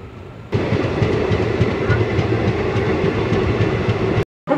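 The 15721 Paharia Express runs from Kolkata toward NJP after leaving Khagraghat Road, its close, steady rumble and rhythmic wheel clatter starting abruptly and holding loud until a brief cut near the end.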